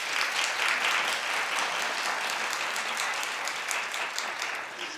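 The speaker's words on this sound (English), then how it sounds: "Clap if you're offended" A studio audience at a daytime talk show claps loudly and continuously, a dense wash of many hands that holds strong before easing slightly at the end.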